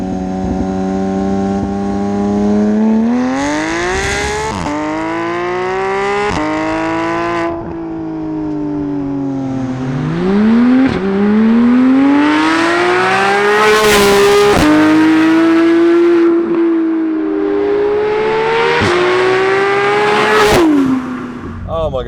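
A Porsche GT3 with a new aftermarket exhaust revs and accelerates repeatedly, its pitch climbing and falling through gear changes, loud and close, with exhaust crackles between pulls.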